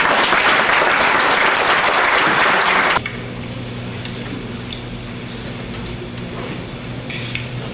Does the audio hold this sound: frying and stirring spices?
no